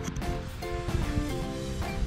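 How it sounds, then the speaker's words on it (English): Wind buffets the microphone outdoors in a vegetable garden, a steady broadband rumble with a faint mechanical hum running underneath. "Well, kind of windy."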